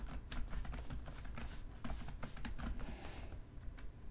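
Rapid typing on a computer keyboard while text is entered, a close, steady patter of key clicks with occasional heavier strokes, nobody speaking.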